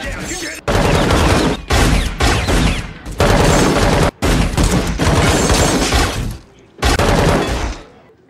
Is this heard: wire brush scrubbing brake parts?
no